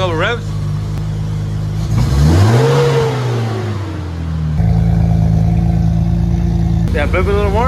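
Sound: Honda Civic engine revving

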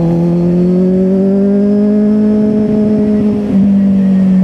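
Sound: Kawasaki Z800 motorcycle accelerating

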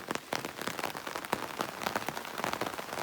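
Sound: rain falling in a village yard

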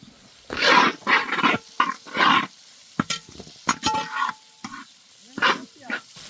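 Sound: onions sautéing in oil in a pan

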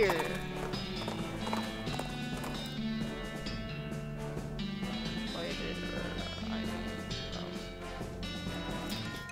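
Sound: ghost horse galloping in a video game

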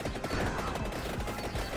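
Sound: fireworks weapon exploding in the video game Vampire Survivors

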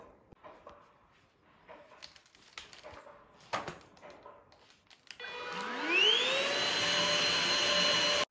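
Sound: vacuum cleaner running

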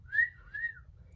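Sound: voice imitating a whistle

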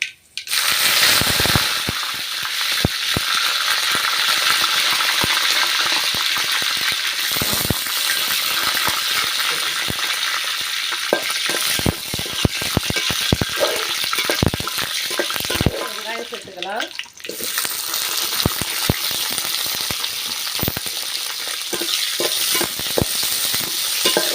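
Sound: curry leaves and dried red chillies frying with mustard seeds

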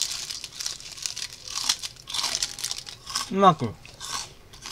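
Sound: crunching Iwatsuka Ajishirabe azuki rice crackers

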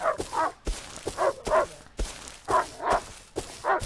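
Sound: coyote barking in Rust video game

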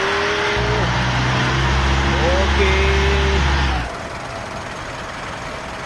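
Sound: Mitsubishi Pajero Sport engine and exhaust in Spintires Mudrunner video game

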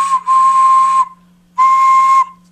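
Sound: clay flying rabbit whistle being blown to test it

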